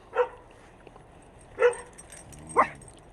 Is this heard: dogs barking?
yes